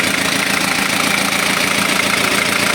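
A Kia Pregio J2 3.0 diesel engine runs loud and close, a steady, dense rumble with a rough, knocking edge and no break throughout.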